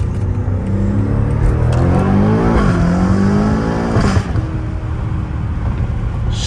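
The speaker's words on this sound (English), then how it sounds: "this car sounds so crazy" A BMW M5 Competition fitted with downpipes revs and accelerates loudly, engine pitch rising and falling through gear changes with a deep, raspy exhaust note close by.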